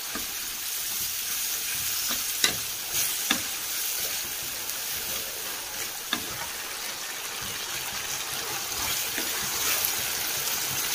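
Peas fry in a pan with ginger garlic paste, giving a steady close sizzle with occasional clinks and scrapes of stirring, no voices.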